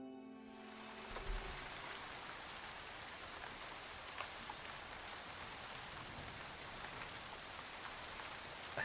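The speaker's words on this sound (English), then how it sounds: "I think it's rain." Steady rain in the video game Hungry Lamb, a dense even hiss of falling drops that runs unbroken throughout, with a soft low bump early on and no voices.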